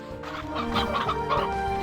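Several chickens in the video game Slime Rancher 2 cluck in quick, overlapping bursts over a low steady background hum.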